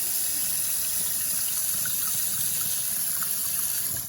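Steady rush of water pouring and draining on the free-flowing side of a clogged sink, a continuous loud gush from a tap that holds level throughout and cuts off at the end, with no talk.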